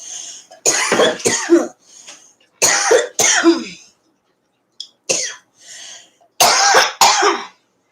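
Loud, close coughing in a series of harsh bursts, grouped in twos and threes with short silent gaps between fits.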